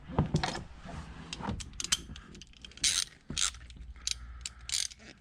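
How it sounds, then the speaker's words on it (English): Socket wrench ratcheting on a 14mm seat belt bolt in a 2015 Honda Fit, quick close clicking bursts separated by short pauses and faint metal handling noises, no talk. "Let's take our socket wrench, 12mm bolt, not 12, 14."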